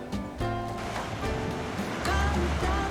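Strong Atlantic waves crash against limestone rocks, a rushing, churning surge of water with broad roaring wash that swells louder toward the end, heard close and continuous.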